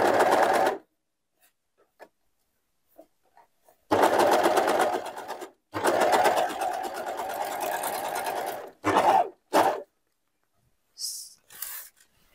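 A sewing machine stitches a curved seam through three layers of fabric on homemade boxer shorts, running in close, loud bursts of rapid whirring separated by pauses, with a few short stops and starts near the end.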